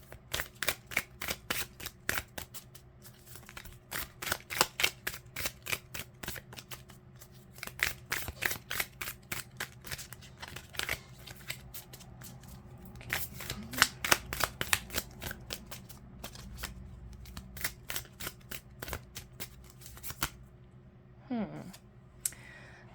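Tarot cards shuffled by hand in a long run of quick crisp riffles and flicks, steady and close, with a brief voice near the end.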